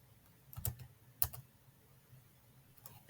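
Soft keystrokes on a computer keyboard, a few sparse clicks in a quiet room, with a sharper tap at the very end.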